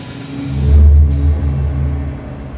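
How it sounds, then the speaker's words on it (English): A loud drill rumbles in the sci-fi game The Invincible, a deep, heavy low-frequency drone that swells and then holds steady, close and overpowering. "It's a drill!"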